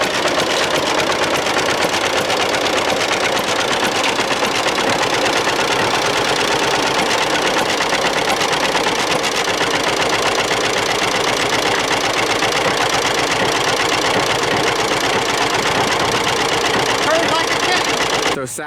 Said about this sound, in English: John Deere B.